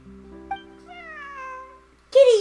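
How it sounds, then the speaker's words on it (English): A cat in the video game Genshin Impact gives a clear, drawn-out meow over faint background music, followed by a shorter, louder cry at the end. "Oh, here's a cute little kitty."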